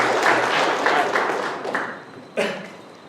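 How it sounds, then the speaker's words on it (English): Applause from students at a university database systems lecture forms a dense patter of clapping that gradually thins and fades, with one sharper thump near the end. "applause"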